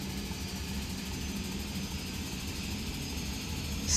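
Locomotive engine at full power in Train Simulator, a steady low droning rumble with constant loudness throughout, ending with a brief sharp high tone at the very end; no speech.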